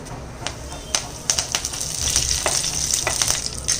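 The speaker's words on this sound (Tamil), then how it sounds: "கடுகு, 2 உளுந்தம்பருப்பு கொஞ்சம் பொரியட்டும்." Mustard seeds and lentils sizzle and crackle in hot oil, with sharp irregular pops over a steady frying hiss, close by.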